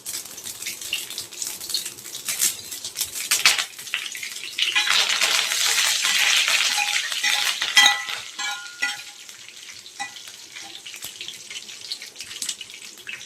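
Mustard seeds and curry leaves hit hot oil for a green chicken gravy, a loud close burst of spattering and crackling that peaks for several seconds, then settles into lighter sizzling with scattered pops and utensil clicks, no voices.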